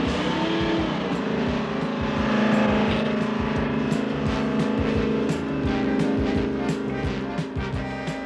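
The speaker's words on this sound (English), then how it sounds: "the powerful inboard engines are throttled up to full speed" Powerful inboard engines on aluminum menhaden fishing boats are throttled up to full speed, a loud continuous roar with rhythmic pulsing and rising intensity, heard close and steady throughout.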